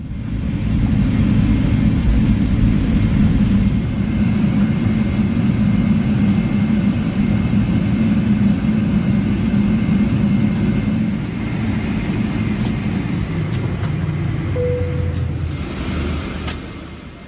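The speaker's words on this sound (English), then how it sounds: "we're now taxiing over to the gate on the domestic section of the airport's Terminal 1." Steady low cabin rumble inside an Air Canada Boeing 777-300ER taxiing to the gate at Terminal 1 after landing, a continuous engine and rolling drone that eases slightly toward the end, with no voices.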